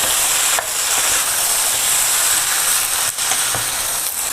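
Chicken pieces stirred and frying in a roasted coconut masala for a Kerala chicken curry, giving a steady, close hiss of sizzling with a few scraping stirs of the spoon against the pan throughout.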